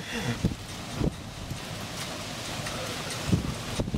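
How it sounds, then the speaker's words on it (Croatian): Strong gusty wind buffeting the microphone outdoors in the rain, a steady broadband rush with several sharp thumping gusts, where surfers are out waiting on the wind. "Kiša, ludnica, vjetar, još bolji."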